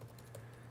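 Fingers tap quietly on a computer keyboard in a brief, soft run of keystrokes, faint and close, with no voices.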